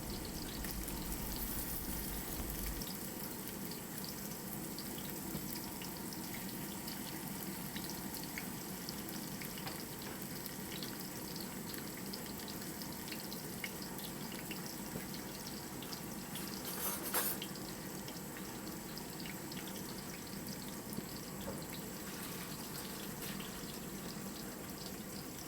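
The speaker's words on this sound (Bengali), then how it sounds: "আমি এখানে পেঁয়াজ কুচি দিয়ে দিলাম, দিয়ে হালকা করে এটা ফ্রাই করে নেব।" Chopped onions frying lightly in hot oil, a steady soft sizzle and hiss that continues quietly throughout, close by and without talk.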